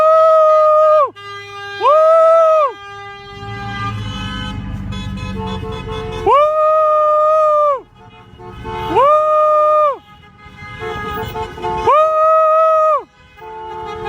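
Car horns at an outdoor political rally in Virginia sound in long, loud repeated honks, several blasts spaced a second or two apart, with crowd noise and cheering in between.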